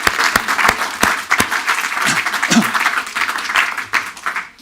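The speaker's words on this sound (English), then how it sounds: "Can we give him a round of applause?" A live audience at a talk on the ultimatum game breaks into a hearty round of applause, loud and dense with a few sharp individual claps standing out early, sustained throughout with faint voices mixed in.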